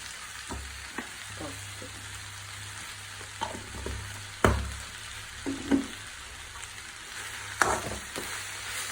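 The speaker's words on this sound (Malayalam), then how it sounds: "മഞ്ഞപ്പൊടി ഇട്ട് നല്ലോണം ഇളക്കിയിട്ട്" Food frying in a pan after a pinch of turmeric powder is added gets stirred, soft sizzling under scattered scraping knocks and clanks of a utensil against the pan, a few louder hits standing out.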